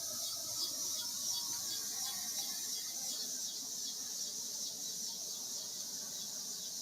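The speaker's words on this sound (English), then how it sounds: "That's a military helicopter." A military helicopter passing overhead outdoors at night, a loud, steady broadband roar with a high hiss that holds constant throughout, no voices.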